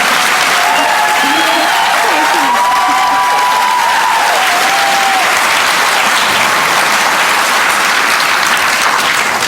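Sustained audience applause fills a lecture hall at an evening talk, loud and dense for the full stretch, with a few high whistles and cheers rising over the clapping early on.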